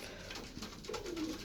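A large pigeon cooing softly nearby, a short low warbling call rising near the end over a steady background hiss.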